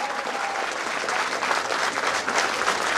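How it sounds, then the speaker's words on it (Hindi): A standing crowd applauds the SP at an Ambedkar Jayanti library event, a dense, sustained roar of many hands clapping, steady and fairly loud throughout with no clear voices. "थोड़े खड़े होके तालियां बरसात बजाते रहेंगे"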